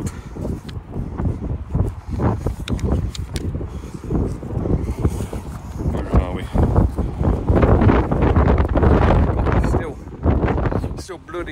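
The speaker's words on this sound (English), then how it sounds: "Bloody windy." Gusty wind buffets the microphone beside angling ponds in Farnham, making a loud, rumbling roar that rises and falls in waves throughout.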